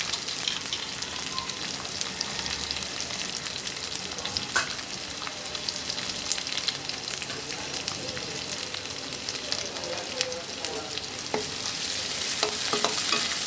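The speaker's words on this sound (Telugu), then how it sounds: "అలాగే మనం చిన్నగా తరిగి పెట్టుకున్న ఆనియన్స్ ఒక కప్పు వేసుకుంటున్నాను." Chopped onions and curry leaves fry in hot oil for baby corn Manchurian, a dense continuous sizzle with scattered stirring scrapes and pops, close and steady throughout.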